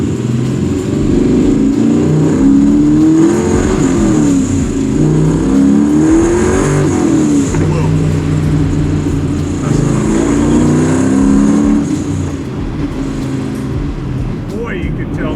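A 700 hp AMC/Hurst SC Rambler Scrambler engine revs loudly while driving, rising and falling through repeated pulls, heard from inside the car with people talking over it.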